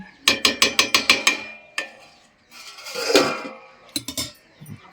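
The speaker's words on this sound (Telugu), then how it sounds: "ఇంకా మూత వేసేస్తున్నాను" A lid put on a cooking pot: a quick run of rhythmic metallic rattles and clatters, then a scraping shuffle and a few more close clinks of metal cookware.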